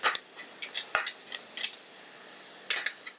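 Metal utensil scraping and clinking in a pan while garlic is stir-fried in butter and browned pan drippings, a series of short bright scrapes at a moderate, uneven pace with quiet gaps between them.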